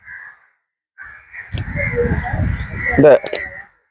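Crows caw repeatedly close by, harsh calls rising over a busy background of people talking and handling noise, with a louder burst of cawing near the end.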